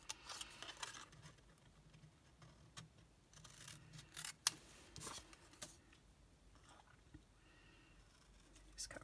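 Scissors snip through paper and cardstock in a crafting session, trimming oversized pieces down; a series of quiet, close crisp cuts with one sharper snap midway, no talking.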